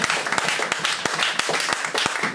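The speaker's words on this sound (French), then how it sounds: "Pendant des acclamations à Jésus." A church congregation at a special gathering in Lyon claps and acclaims Jesus: loud, close applause with sharp individual hand claps standing out, a dense crowd sound without clear speech over it.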